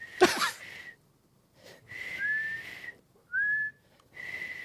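A person whistles several short tones with pauses between, one note sliding upward, preceded by a quick breathy burst at the start.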